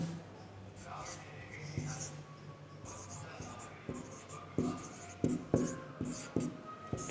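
Chalk or marker strokes on a board during a Class 10 trigonometry lesson, with scratchy writing sounds building into a run of sharp taps and short strokes toward the end, over a faint room hum.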